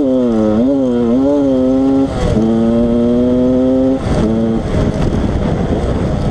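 A Yamaha 125 DTR enduro motorcycle from 1988 with a six-speed gearbox runs hard and loud up close, its engine holding steady high revs with brief gaps between gear changes.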